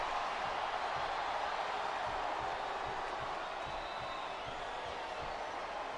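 Capacity arena crowd in the WWE SmackDown vs Raw 2008 video game, a constant loud roar of cheering and noise sustained throughout with no break.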